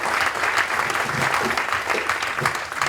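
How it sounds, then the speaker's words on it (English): An audience at a university politics talk gives a loud, steady round of applause for the event helpers, with dense clapping filling the whole stretch and no pause. "But also a massive round of applause,"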